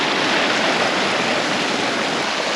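A mountain creek rushes steadily along a forest hiking trail in Fishlake National Forest, a dense, constant close-up wash of flowing water with no voices.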